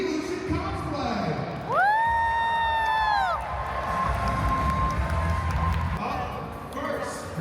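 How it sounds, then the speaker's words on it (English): A crowd at the Pokémon World Championships cheers and whoops loudly with scattered clapping, the noise swelling and holding steady throughout, with a high electronic tone sweeping briefly near the start. "let's give a warm round of applause to our other host here, Evolution Cosplay."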